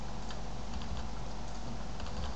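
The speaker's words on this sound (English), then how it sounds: "I'll just hit 3 on the keyboard." Rapid keystrokes patter on a computer keyboard, close and steady for a couple of seconds, with no speech.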